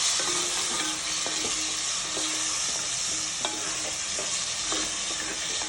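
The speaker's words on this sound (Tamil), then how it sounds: "தக்காளி நல்லா வதங்கி வரட்டும்." Tomatoes soften in a pan for Chettinadu-style shark fish kulambu, a soft steady sizzle under repeated light spatula taps and scrapes at an even pace, close but fairly quiet, no talking.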